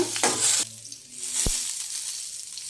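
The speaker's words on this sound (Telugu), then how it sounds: "చిటికెడు పసుపు వేసి ఇలా కలుపుకున్నాక" A pinch of turmeric stirred into sizzling rice in a hot pan, a spoon scraping through with a brief clatter over a steady, close frying hiss.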